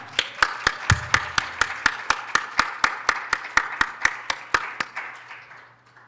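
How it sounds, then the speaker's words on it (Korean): A small church congregation gives slow, rhythmic applause to welcome a speaker, about twenty evenly spaced, sharp claps in unison, fading out after about five seconds with no talk over it. "박수로 환영하겠습니다"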